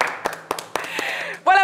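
Studio audience on a French-language TV sports show applauding a departing guest, with scattered claps and taps building into a brief round before a voice cuts in at the end.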